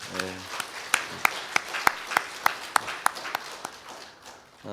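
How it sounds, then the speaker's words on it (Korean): A church congregation claps in a slow, unison rhythm to welcome an elder back after a long illness, sharp evenly spaced claps at a moderate distance, ending as a voice begins to speak. "여러분 한번 박수로 환영하십시다"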